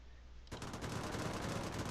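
Rapid aircraft machine-gun fire from a fighter plane in Sid Meier's Ace Patrol: Pacific Skies bursts in after a brief quiet lead-in and rattles on continuously and loudly to the end.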